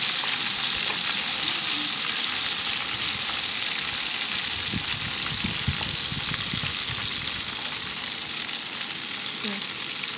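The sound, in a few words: deep-frying tofu skin in oil on high heat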